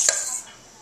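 A spoon packs filling into jalapeno peppers: a single short metallic scrape and clink up close, then a quick fade into quiet.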